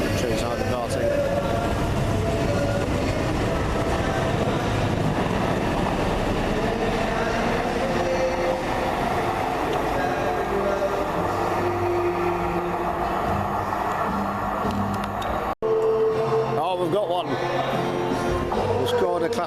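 A Tyne and Wear Metro train rumbles steadily out of a station on the line to the coast, its continuous rail and motor noise filling the platform before a brief cut, with a voice speaking over it.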